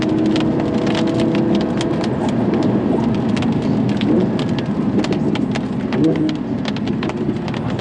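Heavy rain pours steadily and loudly, a dense hiss with scattered sharp drops spattering close by throughout, heard from inside a 2016 Audi R8 V10 Plus.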